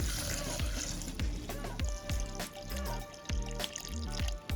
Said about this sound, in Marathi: त्यासोबतच दूध ऍड करून घेऊया